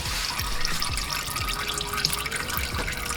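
Engine oil drains from a 2013 GMC Sierra into a drain pan, a continuous close splattering trickle with scattered drips and no talking.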